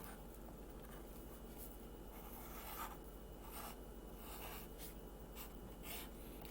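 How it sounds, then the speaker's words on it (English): Pencil writing a name on paper for a first-grade art project, a steady soft scratching and rubbing of graphite, close and continuous without pauses, with no talking. "So the very first thing I'm going to do is write my name with my regular pencil"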